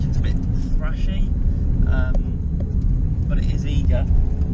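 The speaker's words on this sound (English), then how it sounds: "The engine's a bit thrashy" Suzuki Alto Works kei car engine running, a rough, thrashy steady drone under road noise, with someone talking intermittently over it.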